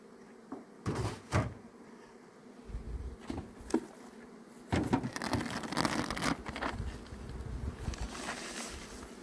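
Honeybees buzz around an opened hive as frames are added in mid-April after cold rainy days. The buzzing is close and fairly loud, swelling and fading, and is mixed with wooden knocks and scrapes from the hive boxes.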